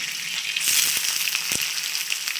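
Sliced onion drops into hot oil in a pan while making a chickpea curry, giving a steady bright sizzle and crackle with a few soft knocks and stirring taps underneath, close and continuous.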